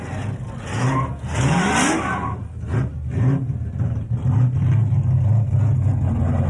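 A 383 cubic inch stroker small-block Chev V8 revs up several times in short bursts, its throaty roar rising and falling, loud and close, at a Summernats car event.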